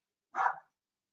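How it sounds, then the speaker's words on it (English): A dog gives a single short bark indoors, moderately close and alone against silence. "Excuse the dog."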